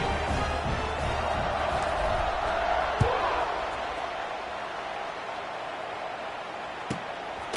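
Steady, distant crowd roar fills a stadium at kickoff in a Madden football video game, a broad wash of noise with a couple of sharp thuds.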